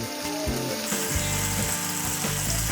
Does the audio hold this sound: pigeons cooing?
no